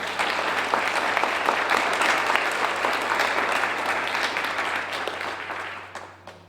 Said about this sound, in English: So again, let's have another round of applause for Amy.